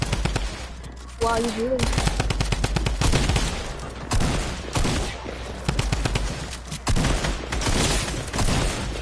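Gunfire crackles in a video game match, with rapid machine-gun bursts and single shots coming close and loud over a constant battle din, and a brief voice speaks partway through.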